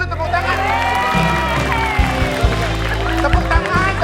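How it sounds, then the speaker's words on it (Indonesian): A lively crowd claps and cheers with scattered whoops, a dense steady din of applause with a few louder bursts. "Tepuk tangan dulu, tepuk tangan."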